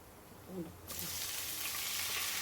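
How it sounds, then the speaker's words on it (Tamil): Vadagam frying in hot oil for tempering a karak kuzhambu, a close, steady, loud sizzle that bursts in about a second in and continues without letup. "இப்போ வடவம் வந்து நல்லா பொரிஞ்சிடுச்சுங்க"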